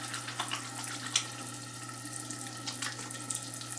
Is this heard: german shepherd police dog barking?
no